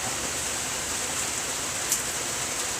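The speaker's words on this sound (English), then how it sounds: "It's really raining down here." Real rain falling outdoors, a steady even hiss that holds through the whole stretch with no talk over it and only one faint tick partway.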